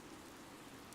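Rain falls steadily in the video game Fire Emblem: Three Houses, a faint, even hiss of drops with no other sound.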